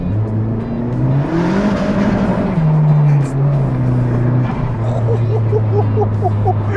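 A turbocharged 1990s Vauxhall Corsa hot hatch drives hard, its small engine droning loud and close from inside the car, pitch rising and falling through gear changes, then settling into a steady high drone with a faint fluttering whistle near the end.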